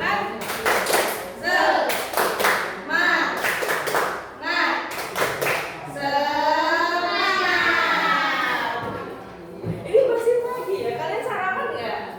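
A class of children performs a rhythmic spirit clap in a school lesson, sharp clusters of hand claps in patterned bursts, mixed with children's chanting voices and a teacher speaking.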